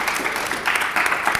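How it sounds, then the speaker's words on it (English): A short burst of audience applause greets a panellist at a broadcasting careers event, with a dense wash of clapping over the brief moment. "Round of applause."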